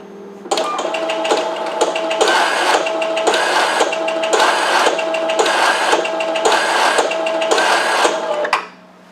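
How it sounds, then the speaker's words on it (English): A GX1 card printer runs a cleaning cycle with a cleaning card, whirring and clattering mechanically for about eight seconds, with a rhythmic pulsing hum that starts abruptly and stops at the end. "push the card into the printer, and it will begin the printing process"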